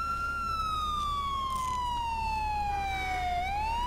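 A wailing police siren in Grand Theft Auto IV sweeps slowly downward, then turns upward near the end, steady and prominent over a low constant rumble.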